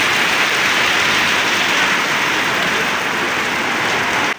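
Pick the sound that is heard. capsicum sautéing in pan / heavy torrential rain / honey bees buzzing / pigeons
heavy torrential rain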